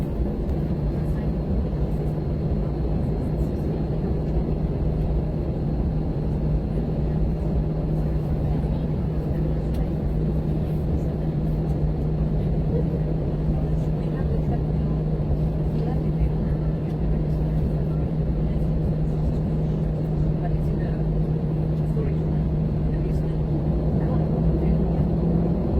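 Steady, dense airplane engine drone during flight, a constant low hum with a sustained tone running the whole time, loud and close as from inside the cabin, with no break or change in level.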